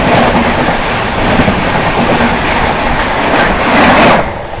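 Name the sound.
New Delhi Howrah Rajdhani Express train passing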